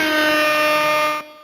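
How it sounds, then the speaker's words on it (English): A loud, sustained air horn blast lasts just over a second with a harmonic-rich tone, then cuts off abruptly, with no speech over it. "Hold on, air horn for him."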